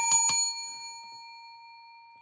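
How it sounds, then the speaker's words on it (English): Stock market closing bell at 4 o'clock: two quick metallic strikes followed by a clear ringing tone that slowly fades out, heard alone. "The bell has rung."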